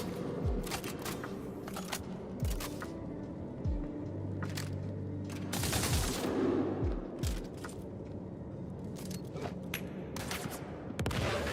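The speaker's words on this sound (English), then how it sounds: "3 grenades in a row." Grenade explosions in the video game Star Citizen, sharp booming blasts repeating through the scene alongside scattered gunfire, loud and close with no talking.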